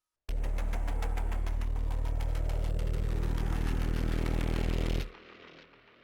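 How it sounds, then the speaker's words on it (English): A rising, rhythmic synth effect from the Pigments 7 Black Parasite preset, built from granular-processed FX samples layered with noise, pulses loudly and steadily for about five seconds, then cuts off abruptly into a faint fading tail. "It introduces a rising, rhythmic effects movement that drives the build-up towards the first drop."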